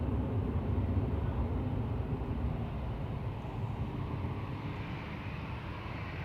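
Lufthansa airliner passing overhead near Manchester Airport, a steady broad roar of jet noise that fades slightly over several seconds, distant and without talk.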